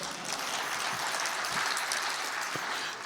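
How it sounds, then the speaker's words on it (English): An audience at a Martin Luther King Jr. Day celebration breaks into dense, continuous applause, faint and distant-sounding and steady for a few seconds. "y'all can clap that up."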